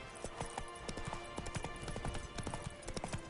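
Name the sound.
horse Roach hooves in video game The Witcher 3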